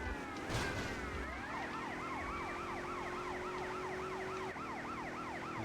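A police siren wails in the Grand Theft Auto Vice City game, a repeating rising-and-falling tone that cycles steadily over a low engine drone, moderately loud and close.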